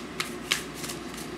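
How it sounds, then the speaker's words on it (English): Tarot cards shuffled by hand, a soft papery riffle with two sharper snaps of the deck, close and alone with no talking. "So, I think we're pretty much done shuffling here."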